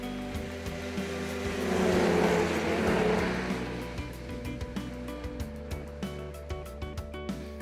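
A snowmobile runs along a trail in Quebec, its engine swelling in a broad rush as it passes close. It then settles into a lower, steady drone with small regular bumps.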